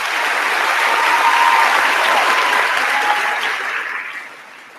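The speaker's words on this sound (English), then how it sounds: "Let's give them one more round of applause." At a high school commencement ceremony, the audience gives a full, steady round of applause that swells and then fades away toward the end.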